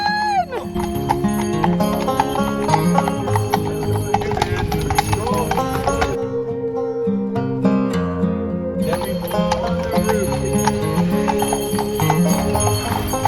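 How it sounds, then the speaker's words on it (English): Horses pulling a sleigh through snowy Garmisch-Partenkirchen clop their hooves in a quick steady rhythm, close and clear, with jingling bells ringing over them and a short quieter stretch midway. "The horses are so adorable."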